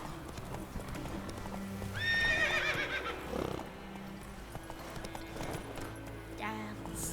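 Roach the horse galloping in The Witcher 3, rapid hoofbeat clip-clops with a loud neighing whinny in the middle, set under game music and voices.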